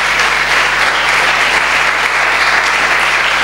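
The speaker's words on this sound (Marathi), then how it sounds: "टाळ्या वाजून प्रभूला धन्यवाद देऊया" A church congregation clapping hands together to thank the Lord, loud, dense and steady applause filling the hall.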